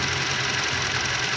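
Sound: 2015 Toyota Fortuner engine noise

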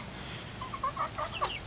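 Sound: chickens and roosters clucking

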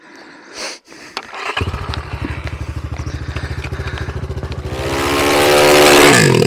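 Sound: enduro motorcycle engine revving, Regul Moto Sport or Ataki 300

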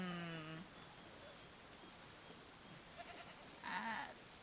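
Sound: sheep bleating in the video game Assassin's Creed 3

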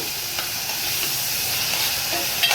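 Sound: tomato, ginger and garlic paste added to a sizzling pan

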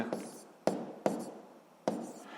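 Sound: writing down a physics answer

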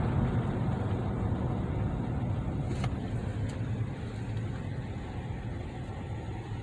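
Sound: 2009 Chevy Tahoe LT running while driving

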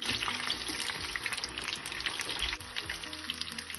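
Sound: corn fritters frying in oil

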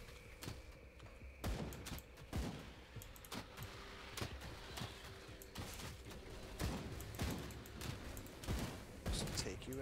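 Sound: poison explosion attack in the video game Grim Dawn

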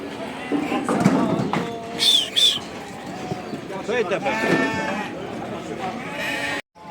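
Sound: lambs bleating at a livestock market

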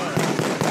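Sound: fireworks going off close by on the ground

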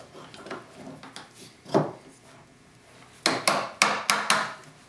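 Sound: cleaning up a tenon with a sharp chisel

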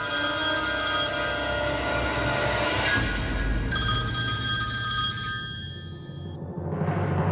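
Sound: telephone ringing

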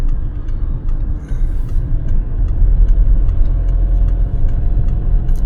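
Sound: car engine running, vibrating the mirror

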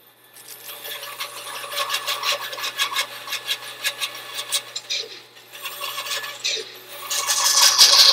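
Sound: sanding board on wood

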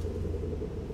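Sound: cars passing outside the house

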